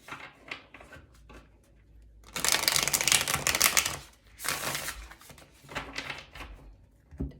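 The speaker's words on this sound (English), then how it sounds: "Okay, we'll do one last shuffle." Tarot cards riffle and slap together in several quick bursts, with softer shuffling and tapping between them. No one speaks.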